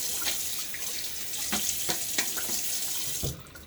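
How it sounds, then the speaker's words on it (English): Running tap water at a night-time bathroom sink during a wet shave, with several short splashes as hands throw chilly water onto the face, then the flow cuts off near the end. "splash my face with water."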